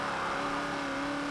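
Classic lime green race cars from Forza Motorsport 7 in a vintage sport GT race, a steady engine drone with a sustained tonal whine running loud and unbroken through a short burst, no talk.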